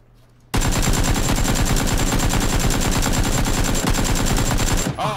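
Rapid, sustained 7.62 rifle fire in the video game PUBG, a loud continuous burst of automatic shots that starts abruptly after a brief quiet moment and runs for several seconds before cutting off.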